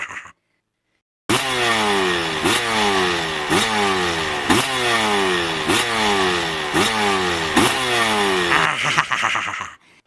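A cartoon motorcycle fitted with a loud aftermarket brong exhaust revs hard in repeated surging bursts, roughly six sweeping rises and falls after a brief silence, loud and close throughout.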